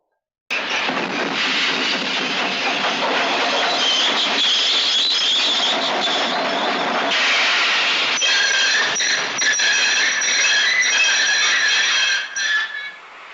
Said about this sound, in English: When the grinding of metal and brake blocks had ceased, Mr. Brown climbed down from the cab